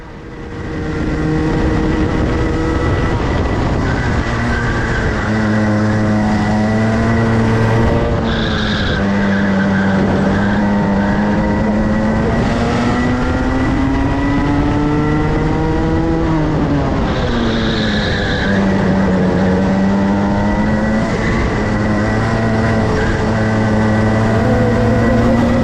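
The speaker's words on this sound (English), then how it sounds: "We've actually been caught, we've got karts right on our tail, and we've got one more lap to hold on." Racing karts in a DMAX kart race on the final lap: a loud, close engine drone rises and falls through corners, with tire squeal and other karts buzzing nearby.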